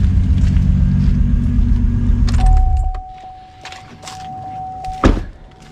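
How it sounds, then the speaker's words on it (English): A turbocharged Chevrolet Trailblazer SS with an air-to-water intercooler idles with a loud, steady low rumble, then shuts off abruptly, leaving quiet clicks, a high electronic chime, and a few small jingles and clunks. "Let me go turn the car off."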